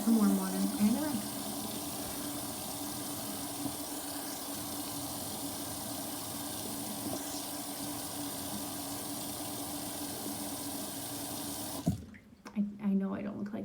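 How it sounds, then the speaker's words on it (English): Warm water runs steadily from a tap into a sink for several seconds to rinse a cloth, then shuts off, followed by faint handling sounds. "And I just take some warm water and a rinse."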